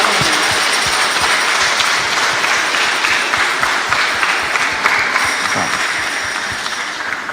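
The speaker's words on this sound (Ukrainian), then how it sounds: "Оплески для наших колядників і для цілої Херсонщини разом з усім Ігором" An audience inside the Church of the Dormition in Ternopil applauds the Christmas carol singers: a loud, crackling, continuous mass of clapping that keeps going for several seconds and eases slightly toward the end.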